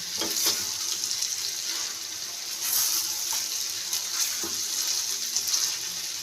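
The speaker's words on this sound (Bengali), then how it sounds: "এখন এটাকে ভালোভাবে কষিয়ে নেব" Desi chicken meat sizzling and frying in a pan, a steady close hiss with occasional stirring scrapes throughout.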